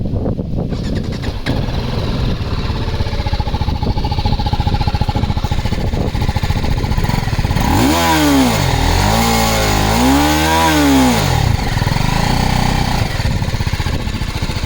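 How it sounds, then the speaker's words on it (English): A TVS Apache RTR 310 motorcycle idles with a loud, rapid, throbbing exhaust pulse, then is revved twice in quick swells that rise and fall, heard close and without talk. "So that's the exhaust note for the Apache RTR 310."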